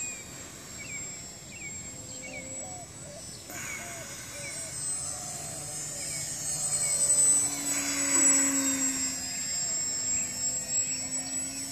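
A Visionaire RC trick plane flying outdoors makes a thin whining motor drone that swells as it passes closer and then eases off, heard at a moderate distance alongside faint bird calls.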